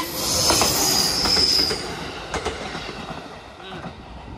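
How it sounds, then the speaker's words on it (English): A regular train in Aichi, Japan rolls past with high metallic wheel squeal and rumbling rail noise, loudest early then fading as it moves away. "Probably just the regular train."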